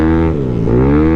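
A Yamaha Aerox scooter engine at a racetrack gives a brief, loud, buzzing rev whose pitch dips and then climbs again.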